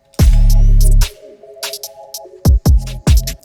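A UK drill beat plays loud with a drill shot sound effect among the hits: a booming sliding 808 opens, then melodic tones sit underneath before several hard, punchy bass-heavy shots strike near the end.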